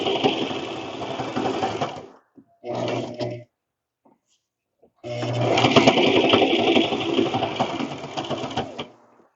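A sewing machine runs in rapid, buzzing bursts: a few seconds of stitching, a short stop-start, a pause, then a longer steady run.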